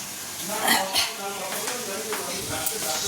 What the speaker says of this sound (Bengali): রাতের জন্য আলু ভাজা বসিয়েছি